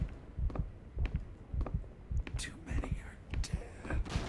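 In the Call of Cthulhu: Dark Corners of the Earth game, a steady thudding heartbeat pulses about twice a second while hushed whispering voices drift in and out above it.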